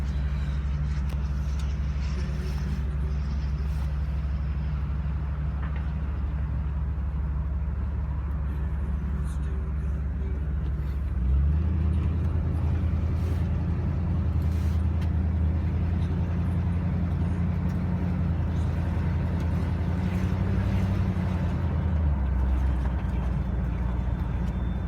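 A 1972 Lincoln Mark IV, a heavy 2400-kilo car, drives along with a steady, close low engine drone that swells louder about halfway through and stays even to the end.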